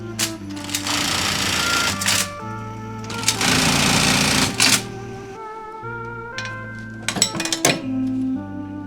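An industrial sewing machine stitches thick, folded-over denim belt loops for Japanese denim, running in loud steady bursts of rapid mechanical chatter separated by short pauses and clinks.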